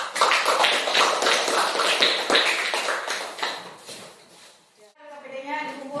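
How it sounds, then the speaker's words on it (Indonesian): Classroom group applause as a student team returns to their seats after presenting, with dense, steady hand clapping from the class that thins out near the end, followed by a few brief voices. "Kita beri aplaus, tepuk tangan."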